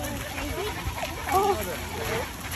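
Several goats bleating in a group being walked down the High Line, with a few short bleats rising over background talk and faint splashy noise.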